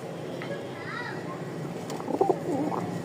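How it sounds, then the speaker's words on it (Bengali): A male Giribaz high-flying pigeon on a breeding farm gives soft, low cooing calls over steady background noise, with voices faintly audible nearby. "ডাক দেখছেন মাশাল্লাহ"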